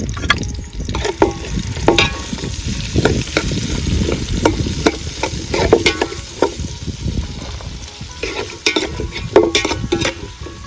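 Sliced onions frying in oil for a country chicken fry, a close, continuous sizzle with frequent scraping stirs and clinks of a spatula against the pan, no talking.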